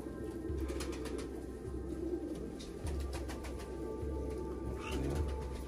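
Pigeons being fed, with low repeated cooing and occasional fluttering wingbeats over a steady outdoor background hum, nearby and moderately loud.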